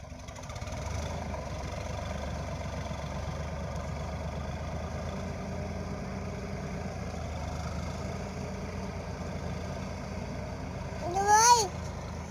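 A river boat engine on the Atrai River runs in a steady low drone throughout, heard from some distance, with a brief sharp chirp near the end.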